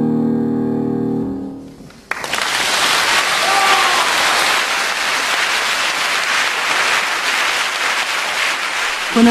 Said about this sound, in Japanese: それでも鳴り止まない万雷の拍手